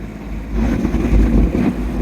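A boat motoring across open water in Hervey Bay, a steady low engine drone with wind buffeting the microphone, continuous and close.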